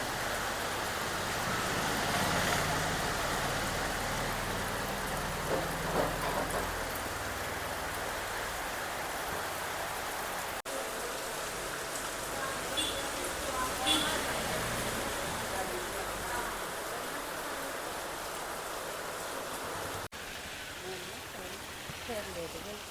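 Steady, dense rain hisses throughout, loud and continuous, with faint talking underneath.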